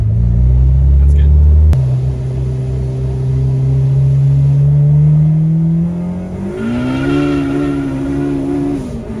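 A K-swapped Mini Cooper on nitrous launches and pulls hard, its loud engine note climbing steadily through the gears as the tires spin and shred, close and continuous with no talk.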